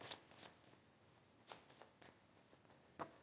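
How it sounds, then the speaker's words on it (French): Piles of board game cards for Les Rescapés du Déluge being shuffled, soft riffling bursts at irregular moments, close but faint, with no voices. "Et donc, on va mélanger chacun de ces tas."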